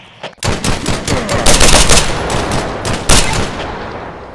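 Rapid shotgun blasts in a police shooter video game, a burst of loud, close, sharp reports firing in quick succession with several stronger shots standing out, and no talk over them.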